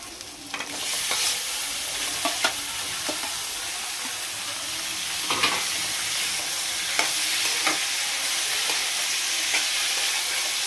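Chicken and masala with turmeric frying in oil, a loud continuous sizzle with repeated scraping strokes of a spoon stirring the pan, close up and uninterrupted by speech.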